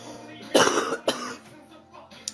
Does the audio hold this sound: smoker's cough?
yes